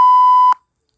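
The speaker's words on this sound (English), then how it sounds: "this specific part has been censored with the beep sound" A steady electronic censor beep, a pure sustained tone about half a second long, cuts off abruptly with a short click, then silence follows.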